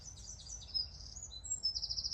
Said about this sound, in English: As you can hear, the birds are tweeting.